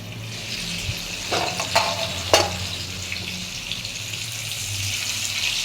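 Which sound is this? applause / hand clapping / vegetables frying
vegetables frying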